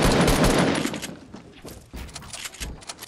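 Assault rifle fire in a video game: a dense rapid burst at first, then spaced single shots and short bursts with clicking handling sounds between, close and loud with no voices.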